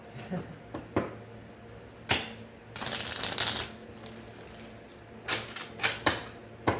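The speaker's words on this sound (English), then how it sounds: "Let's shuffle." Tarot cards being shuffled by hand, a dense riffling burst in the middle framed by scattered soft card taps and slides, close and fairly quiet with no talking.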